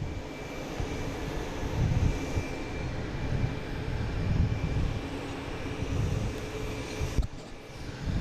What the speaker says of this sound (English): we got a JetBlue coming in from Reagan, an A220